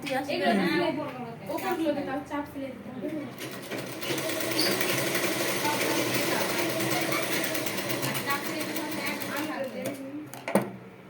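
A sewing machine runs a long straight stitch on a churidar neckline, a steady close mechanical hum lasting most of the stretch, with a voice talking briefly at the start.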